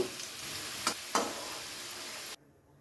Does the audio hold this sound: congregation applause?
no